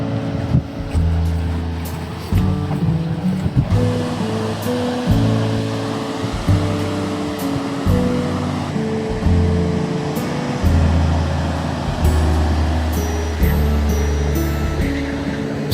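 Ocean waves wash onto a beach at Florence on the Oregon coast, a continuous broad roar of surf with a steady tonal musical layer underneath.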